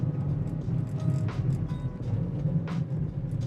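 Steady low rumble of road and tire noise from inside a moving Renault Kangoo on Michelin Energy Saver 4 tires, a continuous dull roar with occasional faint bumps and no talking.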